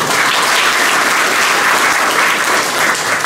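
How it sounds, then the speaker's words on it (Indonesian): Dense, loud applause from a large crowd honouring martial arts athletes of the NTT contingent at a governor's send-off ceremony, a steady unbroken wash of clapping with no talk over it. "Tepuk tangan buat semua dulu"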